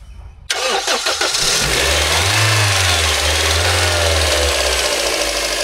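A 2010 Toyota Probox with a 1500cc engine cranks briefly and catches after a short pause, then settles into a loud, steady idle at close range.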